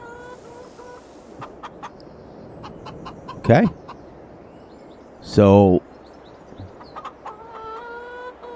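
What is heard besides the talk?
chickens clucking in Farming Simulator 22 video game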